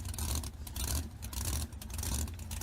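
A car engine in the BeamNG driving game idles and revs on its own, a steady whirring drone that swells and dips irregularly, heard without talk.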